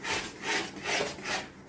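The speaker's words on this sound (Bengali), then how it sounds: "এবার এটাকে নাড়তে হবে, ভালো করে ঘুরিয়ে ঘুরিয়ে নাড়তে হবে" Maggi noodles stirred round and round in a pan, giving soft rhythmic scraping strokes about every half second, quiet and close with no talking.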